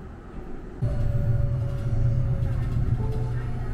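Siemens light rail train in Calgary starting up, a low steady rolling rumble with a faint tonal whine from the traction motors as it gets underway, heard from inside the car.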